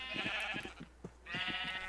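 Sheep bleat in a Minecraft sheep pen, with two long, loud bleats at the start and end and short clicky game sounds between them.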